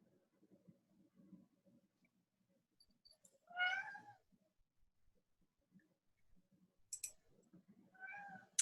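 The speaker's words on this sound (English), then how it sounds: "I think I hear a kitty." A house cat meows twice, fairly close and clear, with soft low murmuring and a few clicks in the quiet room between the calls.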